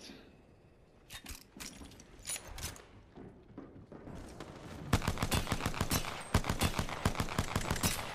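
Rapid bursts of video game gunfire crack out in quick succession, sparse and scattered at first, then building into a dense, steady rhythm of loud, close shots with no talking.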